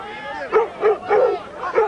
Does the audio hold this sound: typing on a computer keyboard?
no